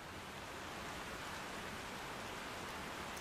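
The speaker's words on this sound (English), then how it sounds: "It's raining now, and she knew it was gonna rain before it started raining." Steady, even rain hiss filling the background, a dense wash of tiny droplets with no pauses and no voices.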